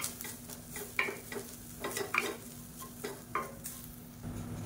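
Grated coconut fries in a pan while a spoon stirs it in repeated scraping strokes, with a soft sizzle underneath, quiet and close, and no voices.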